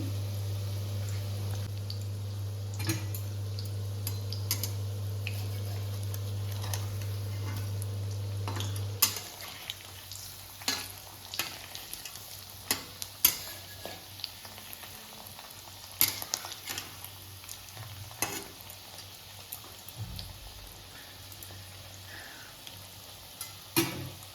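Fish fritters deep frying in a wok, a steady bubbling sizzle close by with a low hum in the first part, followed by frequent sharp clinks and knocks of a utensil against the pan, with no talking.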